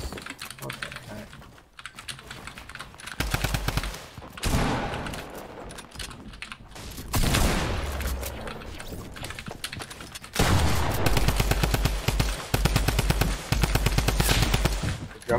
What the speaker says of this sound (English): The drum gun sounds cool.